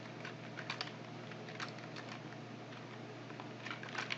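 Typing on a computer keyboard while writing Arabic script, quick clusters of light key clicks with short pauses between bursts, close and fairly quiet with no talking.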